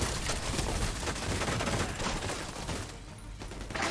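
Dense, continuous automatic fire from a machine gun turret in The Division 2, a loud sustained fusillade that fills the whole stretch with barely a pause.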